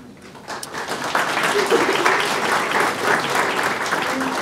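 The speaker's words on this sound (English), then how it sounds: "You're going to get tired clapping" Audience clapping at a school honor society ceremony, a steady, moderately loud burst of applause that starts abruptly and carries on for several seconds, with a few voices underneath.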